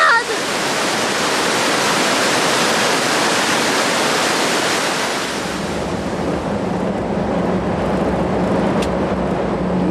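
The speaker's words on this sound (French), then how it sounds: "Non, c'est la cascade!" A waterfall pours with a steady, loud broadband roar that fills the whole stretch, easing slightly partway through, with possible voices faint underneath.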